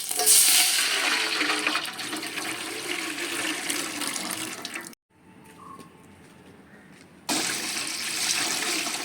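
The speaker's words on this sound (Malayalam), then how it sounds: "നമുക്കിനി വെള്ളം ഒഴിച്ചു കൊടുക്കാം" Water poured into a cooking pot greased with ghee for chicken biryani, a steady loud splashing stream that stops abruptly midway, leaving quiet, then resumes.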